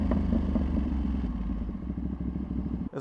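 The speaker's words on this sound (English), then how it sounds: "Pops on this bike are so ridiculous." Tuned Ducati Panigale V2 motorcycle on a street ride, engine rumbling steadily up close with a dense run of crackling exhaust pops and burbles, ending in a brief dip near the close.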